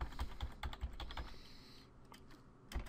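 A command is typed on a computer keyboard in Windows 8, a brisk patter of soft key clicks that stalls briefly near the end before a few last taps, with no one speaking.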